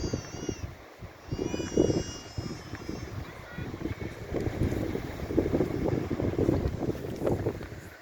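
Wind gusting across an outdoor microphone produces a steady low rumble and buffeting that swells at intervals over roughly eight seconds, with a faint high whistling tone near the start.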